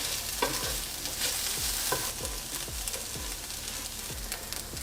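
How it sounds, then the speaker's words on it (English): Scrambled eggs stirred into vegetables in a pan for fried rice, with repeated scraping strokes of a utensil at a steady rhythm over a constant sizzling hiss, close and fairly loud, with no talking. "Now that our eggs are scrambled, we're gonna mix them into our veggies."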